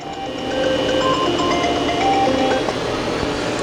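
A Fadal vertical machining center with a 40-taper spindle running at around 3,500 RPM in high range, giving a steady mechanical whir with faint tonal whines over a constant hum, fairly loud and continuous.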